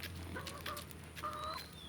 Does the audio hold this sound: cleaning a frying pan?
no